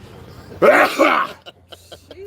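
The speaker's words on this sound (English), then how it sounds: "I'm about to sneeze, so give it a second." A single sharp sneeze bursts out loud and close from a man outdoors at a beer festival, followed by a few small sniffs and quiet breaths.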